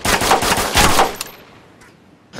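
A rapid burst of several SKS rifle shots in the DayZ video game, loud and close, followed by a fading echo tail and one faint later report.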